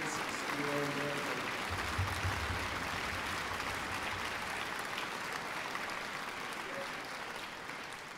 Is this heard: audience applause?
yes